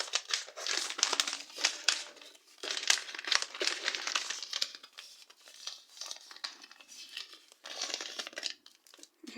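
Surprise paper packets being unwrapped by hand, giving continuous close crinkling and crumpling with occasional tearing, in bursts across the clip with brief pauses and no talk.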